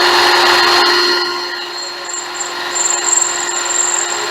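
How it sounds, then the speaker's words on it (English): A power drill bores into a seized hinge pin on a Jeep tailgate, a steady whining grind that is loudest at first, dips, then continues with a thin high squeal toward the end. "So what we're going to try to do is drill them a little deeper so we can get that tap started."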